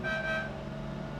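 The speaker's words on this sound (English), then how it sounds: "Horn works." A Lamborghini Miura SV car horn gives one steady blare lasting about a second, close and clear, with no talk.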